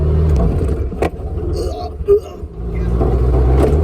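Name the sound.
engine of a 1972 VW Beetle running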